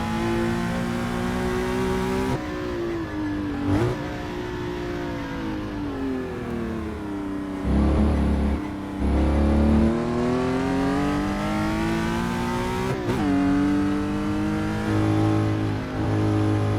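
A race car engine drones through laps of the 60s Watkins Glen circuit in Assetto Corsa, its pitch rising and falling through gear changes, with repeated revving climbs and abrupt shifts, loud and continuous with no speech.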